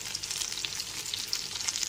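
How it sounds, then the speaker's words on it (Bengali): Potatoes and pointed gourd fry in a pan with a soft, steady sizzle and faint crackles, the stirring barely audible under the hiss and the whole sound fairly quiet. "বারবার ঢাকনা খুলে আর ঢাকনা বন্ধ করে আলু পটলগুলোকে খুব বারবার নেড়ে চেড়ে ভালো করে ভেজে নিয়েছি।"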